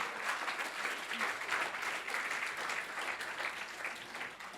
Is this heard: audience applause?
yes